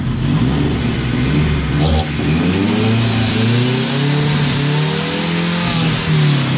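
A BMW 318 IS engine with a fault that keeps it from accelerating properly runs loud and close, holding an uneven rev with rising and falling surges and a brief dip partway through, and no voices.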